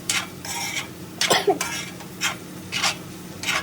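Asparagus stir-fry with pepper powder is stirred in a pan. A handful of brisk, close scraping strokes sound over a faint background sizzle, with one sharper clatter midway and no talking.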